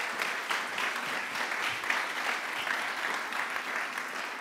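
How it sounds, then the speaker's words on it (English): An audience at an award ceremony in Kiel claps steadily for several seconds, a dense even wash of applause with no voices on top. "A little bit of applause."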